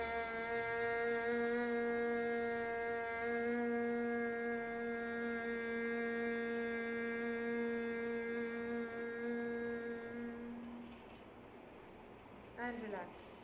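Sustained group humming on the exhale in a yoga breathing session, a long steady tone of about ten seconds that fades out, followed by a brief voice at the end.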